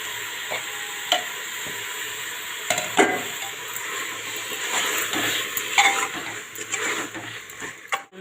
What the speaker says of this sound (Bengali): মাংসটা দিয়ে আমি কষিয়ে নেব বেশ কিছুক্ষণ, তারপরে জলটা দেবো।